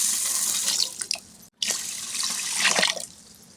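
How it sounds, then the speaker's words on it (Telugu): Two glasses of rice being washed for a chicken pulao, with water running and splashing steadily in a kitchen vessel, a brief break in the middle and a swirling surge near the end, close up and without talking. "అయితే వాష్ చేసుకుందాం రైస్"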